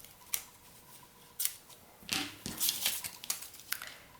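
Scissors snip through a piece of paper for an iris-folding craft, a few separate crisp cuts followed by a quicker run of closely spaced snips, close and quiet, with no talking.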